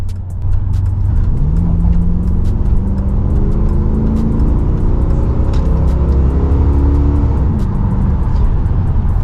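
A Chevrolet Lumina SS cruising on the N3 highway, heard from inside as a loud, steady engine drone and road rumble, with the engine note rising and falling through gear changes.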